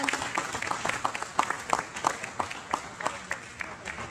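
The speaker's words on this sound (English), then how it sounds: "So big round of applause if I may throw up his way again." An audience at a county groundbreaking ceremony claps in fairly sparse, rhythmic applause. Individual claps stand out, heard from a moderate distance at modest volume.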